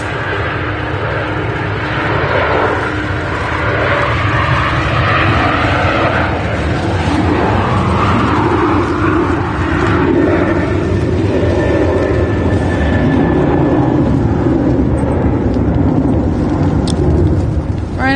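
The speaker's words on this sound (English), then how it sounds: "Ryanair 737 to Milan." A Ryanair Boeing 737 jet airliner at Manchester Airport gives off a loud, continuous jet engine roar that holds steady throughout, with no speech.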